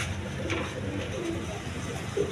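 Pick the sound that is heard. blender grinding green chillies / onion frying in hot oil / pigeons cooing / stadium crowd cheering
pigeons cooing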